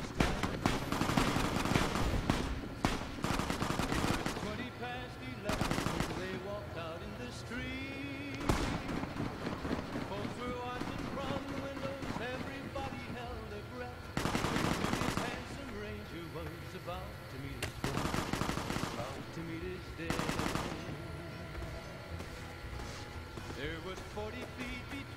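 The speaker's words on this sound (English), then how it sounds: "So much shooting." Gunfire breaks out in Fallout: New Vegas in scattered bursts of shots, some close and sharp, others more distant. Someone talks over much of it.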